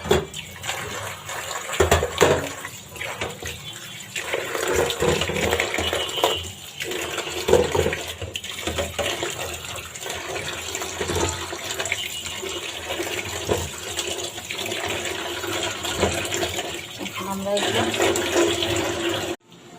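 Tap water runs steadily while tomatoes are washed for homemade tomato sauce, a continuous close splashing stream broken by brief handling knocks throughout.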